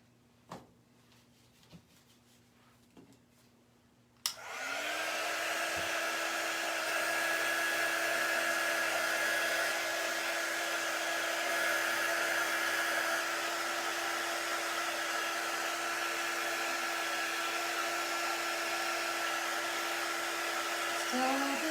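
A hair dryer starts up after a few quiet taps and runs steadily and loudly, drying freshly dabbed ink on a sweatshirt.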